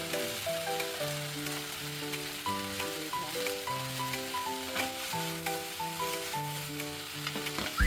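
Pork and green bell pepper stir-frying in a pan, turned with chopsticks: a steady, close sizzle runs throughout with scattered stirring clicks, partly under loud background music.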